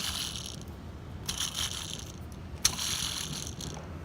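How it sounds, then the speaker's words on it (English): A dry bearing in a Mercedes-Benz belt pulley, with the belt and tensioner removed, is spun by hand. It gives a close, gritty grinding whir in two or three rough bursts with a sharp click between them, and no one speaks. "That bearing is dry."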